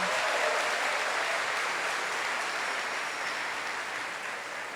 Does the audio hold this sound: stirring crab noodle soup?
no